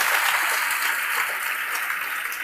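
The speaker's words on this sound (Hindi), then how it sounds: "अरे भाई बढ़िया से ताली बजाओ।" Students in a classroom clap together, a continuous, bright patter of many hands at close range, sustained evenly with no voices cutting through.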